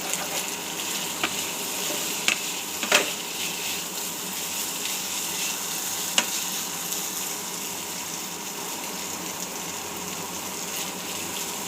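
Potatoes frying in a pan for aloo bhaji make a soft, continuous sizzle, with a few faint clicks and a scrape or two.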